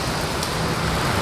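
Rain falls steadily on a city street at a crossing, a dense, even hiss of drops with no breaks and a faint rumble underneath, heard without any talking.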